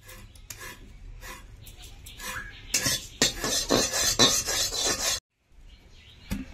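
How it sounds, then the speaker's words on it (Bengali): Cumin seeds are dry-roasted without oil in a wok while being stirred, giving scraping, rasping strokes and light clinks of a utensil against the pan, growing louder mid-way before a short gap. "আমি কড়াইতে জিরেগুলো ভেজে নেব তেল ছাড়া।"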